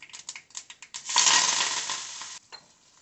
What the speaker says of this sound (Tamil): கருவேப்பிலை நல்லா பொரிஞ்சு வந்திருக்கு